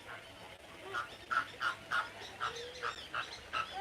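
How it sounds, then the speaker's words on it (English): A flock of fulvous whistling ducks calls in a rapid series of high, squeaky whistles, fairly faint and at a distance. "That's the whistling ducks going crazy."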